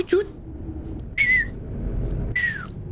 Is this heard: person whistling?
yes